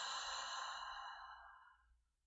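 One long exhale out through the mouth, close and soft, an airy breath that fades gradually over about two seconds.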